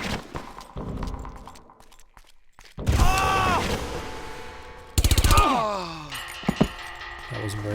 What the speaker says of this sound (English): upgraded assault rifle.